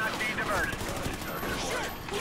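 Dense bursts of automatic gunfire from the Call of Duty Ghosts video game, loud and continuous throughout, layered with game effects.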